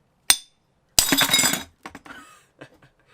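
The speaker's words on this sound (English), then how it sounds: "let's smash some glass" A glass bottle smashed with a $12 torch multi-tool gives one sharp clink, then a loud burst of shattering glass a moment later, followed by scattered tinkling shards settling.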